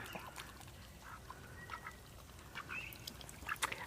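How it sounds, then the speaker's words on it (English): Backyard ducks quacking around a garden pool, a scatter of faint honking calls that repeat irregularly over a soft outdoor background, moderately distant. "I know you guys like to watch my ducks"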